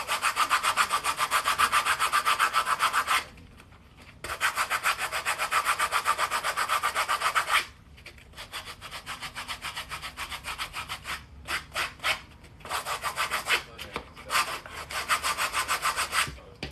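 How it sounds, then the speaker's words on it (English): Close, rhythmic rasping strokes of sandpaper rubbed over the surface of Crocs shoes, in bursts separated by short pauses, with no talking. "make sure to sand on your shoes very well"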